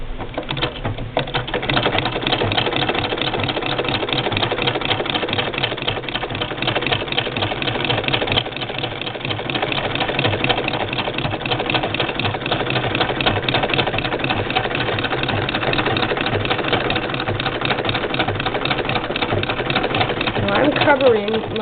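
An 1891 White VS IIb treadle-era sewing machine doing free-motion darning runs in a fast, steady mechanical patter of needle strokes throughout, loud and continuous, with a voice talking over it.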